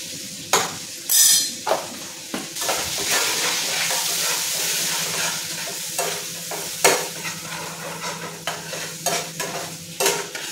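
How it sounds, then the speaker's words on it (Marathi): Chillies with a spice paste of hing and turmeric frying in hot oil on a raised gas flame, a steady close sizzle broken by repeated loud scrapes and clatters of stirring, with no talk. "मिरची पण थोडंसं तेलामध्ये परतलं की नाही"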